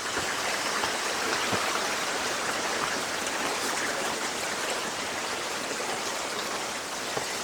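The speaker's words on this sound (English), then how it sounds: "Nice little creek crossing." Creek water flowing steadily at a hiking trail creek crossing on public land, a continuous broadband rushing and babbling that stays loud and even throughout with no voices.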